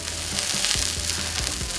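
Semolina-topped bread toast with tomato and onion sizzles steadily as it is pressed in a hot pan, a continuous close crackle with a few soft thumps of pressing.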